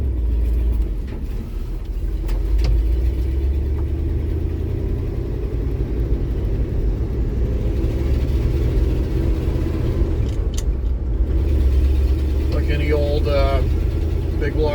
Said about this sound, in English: Big block Ford, she's a little grumpy when cold, but as you saw, she just fires up and cruises.